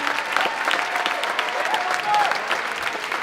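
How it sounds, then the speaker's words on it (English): Choir concert audience applauding the directors, accompanists and musicians, sustained steady clapping filling the room, with brief tonal traces of voices or sound underneath. "Let's give another huge round of applause to all of the directors and the accompanists and musicians"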